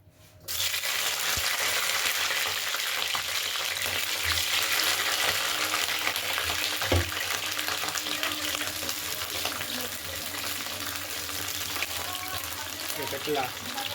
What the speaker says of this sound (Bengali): ফুলকপিটাকে লাল করে ভেজে নিয়েছি